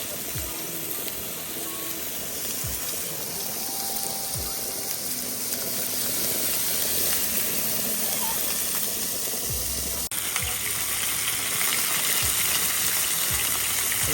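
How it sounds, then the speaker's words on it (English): Steady sizzling and hissing of burgers frying in a pan on a JetBoil Basecamp camp stove, continuous and close, with occasional faint clicks and scrapes. "Using the frying pan, got it going. It fit 3, 4, or 5 burgers in there."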